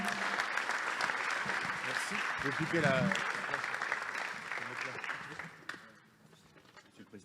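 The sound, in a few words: audience applause at an award ceremony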